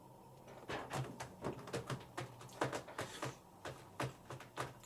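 Crunchy pink Dutch-style licorice candy being chewed, a close run of sharp, uneven crunches in a steady chewing rhythm, with no talk.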